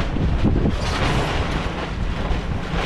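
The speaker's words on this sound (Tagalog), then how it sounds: "Lakas ng hangin mga kabisig." Strong typhoon wind gusting across the microphone in a steady, loud, broadband roar that swells and eases over about three seconds, with no voices.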